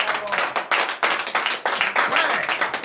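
A church congregation at Friday morning prayer in Benin claps in acclamation, a dense, loud burst of hand claps in uneven bursts with voices mixed in, lasting a few seconds.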